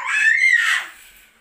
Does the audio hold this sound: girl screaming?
yes